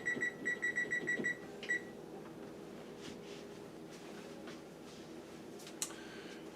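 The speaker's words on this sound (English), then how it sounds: "I want to set the timer for 50 minutes" An oven timer emits a quick run of short, sharp electronic beeps while it is being set, followed by a single beep and then low background hiss.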